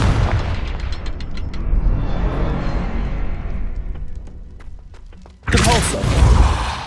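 A deep boom bursts out near the end as the Confringo spell explodes in Hogwarts Legacy, after a stretch of muffled game thuds and clatter.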